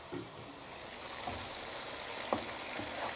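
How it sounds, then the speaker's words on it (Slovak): Mushrooms frying in butter in a pan for a mushroom scramble, a steady soft sizzle with occasional louder crackles and stirring clicks, close and continuous with no talk. "Húbky na maslo už sa prážia fajne."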